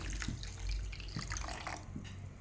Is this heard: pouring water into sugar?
yes